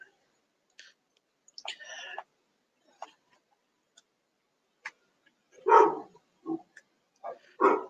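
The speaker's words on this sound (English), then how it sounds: "Whose bark is that?" A dog barks indoors: a few short, sharp barks come in a quick cluster near the end, after scattered faint clicks and small noises in a quiet room.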